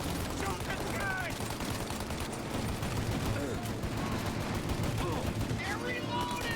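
Dense, continuous gunfire in the video game Mafia: Definitive Edition: overlapping shots crackle in a steady loud barrage, with faint voices mixed into the din.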